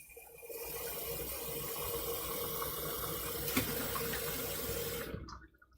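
Water runs steadily from a kitchen tap in a home kitchen, a continuous close splashing rush that holds for several seconds, then cuts off abruptly as the tap is shut.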